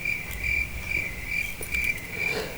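Crickets chirp in a steady rhythmic trill, continuous and fairly close, with no voices.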